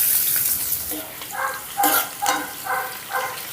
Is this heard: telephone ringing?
no